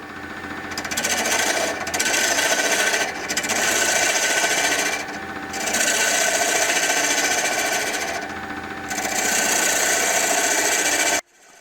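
A lathe turns an antler blank with sharp tools, giving a loud, steady rasping scrape that runs in long passes broken by brief pauses as the cut lifts, then stops abruptly at the end.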